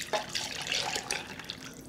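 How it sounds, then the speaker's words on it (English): Panna cotta mixture is poured from a saucepan or spouted jug into small ramekins, a close, continuous liquid pour with soft splashing, heard alone without talk. "Pour it into these containers."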